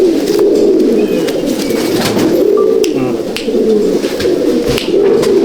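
Champion breeder pigeons in a loft, coo after coo rolling close and loud in a continuous overlapping murmur, with no talking over it.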